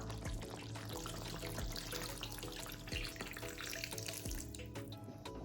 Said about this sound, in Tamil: இப்போ நம்ம கரைச்சி வச்சுருக்க புளியை சேர்த்துக்கலாம்